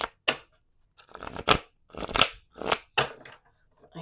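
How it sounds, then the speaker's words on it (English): Tarot cards are shuffled by hand in several quick riffling bursts separated by brief pauses, close and crisp, with no talking. "Last shuffle."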